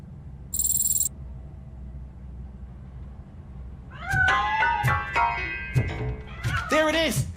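A cat in the Robocop video game meows several times in the second half, the cries close and distinct after a short electronic tone and a quiet stretch.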